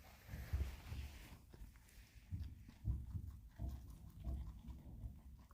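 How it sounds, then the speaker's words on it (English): Pet rabbits munching food at close range, a soft, irregular crunching and chewing with faint thuds and bumps mixed in; quiet overall, with no talking. "You can enjoy the sound of munching"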